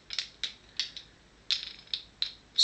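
A metal nut snaps and ratchets into the hexagonal housing of an Ion drum kit, giving a series of about eight sharp, close clicking bursts in an uneven rhythm, with no voice.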